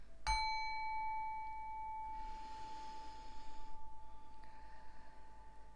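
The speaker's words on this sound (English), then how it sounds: "This is a third eye chakra bell." Third eye chakra bell struck once, a clear bright ring with long sustained overtones that slowly fade, followed by faint breathing and soft rustling nearby.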